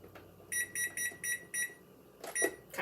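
An oven's control panel sounds a series of short electronic beeps in a quick rhythm while being set to preheat, with a couple of further beeps at the end, close by in a quiet kitchen.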